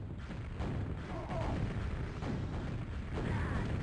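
Rocket explosions in a QuakeWorld team deathmatch land as a few dull, booming thuds over steady game noise, moderately loud with no talk.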